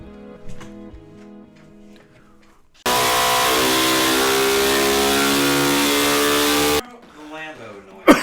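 A five-cylinder car engine, the 07K, half of the Lamborghini Gallardo V10 block, revs hard and holds a loud, sustained roar for several seconds before dropping away, with quieter engine sounds before and after.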